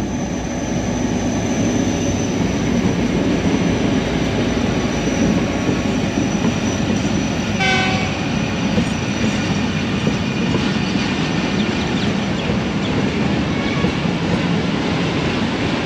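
A train led by an HGMU 30 locomotive rolls past at speed at Ghaghar Phatak in Karachi, a loud continuous rumble of wheels on rail with a brief metallic squeal partway through.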